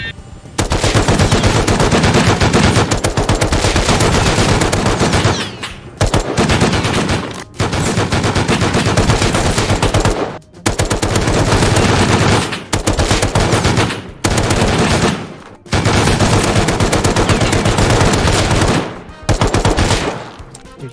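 Sustained, loud automatic gunfire in Rust, long rapid bursts from a machine gun with brief pauses between them, dominating the whole stretch with heavy, dense repeated shots.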